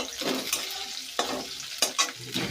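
Onion and green chili frying in a pan, giving a soft crackling sizzle broken by several sharp stirring scrapes and clinks.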